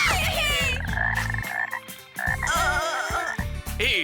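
Cartoon frogs croak in a dense, loud chorus, with overlapping rhythmic calls that pulse and warble throughout and no talk.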